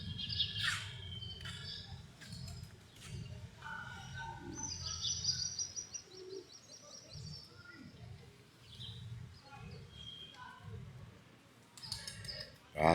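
Pigeons gather in a city square, giving soft, low cooing pulses alongside scattered chirps and tweets from other birds against quiet outdoor background noise.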